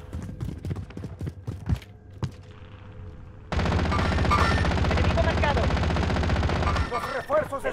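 Gunfire in the video game Call of Duty: Modern Warfare, scattered sharp shots at first, then a dense sustained burst of rapid firing, with voices chatting over the game sounds.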